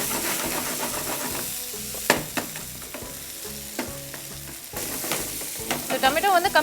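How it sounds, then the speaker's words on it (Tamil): Ripe tomatoes sautéing in a pan for mutton leg soup, a close frying sizzle broken by spoon scrapes and clanks against the pan, busier toward the end, with no talk. "வதக்கிட்டோம், நல்லா வதக்கணும். வதக்குறோம்."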